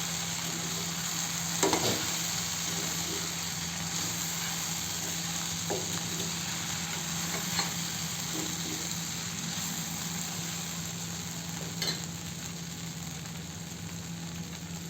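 Okra cooked with gram flour sizzles steadily in a frying pan as half a spoon of garam masala is stirred through, a constant close hiss broken by a few soft scraping knocks.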